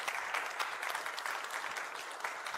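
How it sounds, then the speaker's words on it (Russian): An indoor audience at an architecture and performance event in Yerevan claps steadily in thanks to the speakers, a dense, even patter of many hands lasting a few seconds with no talk over it. "Давайте поблагодарим всех спикеров, которые сегодня выступали, нашими аплодисментами."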